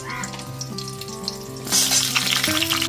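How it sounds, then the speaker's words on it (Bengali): Oil sizzles and crackles steadily in a pan as a spice tempering fries on low flame, with a louder burst of hissing partway through; a musical tone plays underneath. "গ্যাসের ফ্লেমটা লোতে রেখে তিরিশ থেকে চল্লিশ সেকেন্ড ধরে খুব ভালো মতো ভেজে নেব ফোড়নটা"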